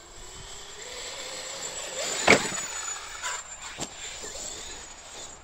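A Traxxas X-Maxx 8S RC car on a run, its electric motor whining at a steady high pitch in the middle distance, with a loud thud of impact partway through and a couple of lighter knocks after.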